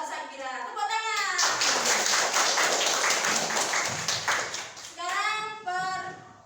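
A classroom audience claps together for a student named Sakira, a dense burst of clapping lasting several seconds that fades out as voices return before and after.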